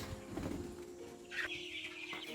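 Chickens on a free-range poultry farm cluck throughout, with a louder burst of higher-pitched clucking in the second half over steady barnyard background noise.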